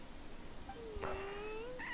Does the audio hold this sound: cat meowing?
yes